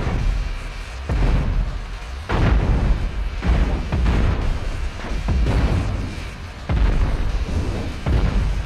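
Heavy cannons firing from the front of a spaceship in the space combat game Cosmoteer, a series of loud, booming blasts spaced a second or two apart over continuous rumbling battle noise.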